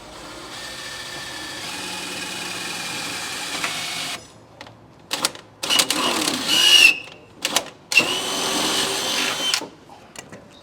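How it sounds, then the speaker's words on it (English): A power drill with a short 1/4-inch bit whines steadily, then bursts in short, uneven runs as it bites through a pickup truck bed's metal, loud and close with brief pauses between. "using a short 1/4-inch drill bit, go ahead and drill through the hole"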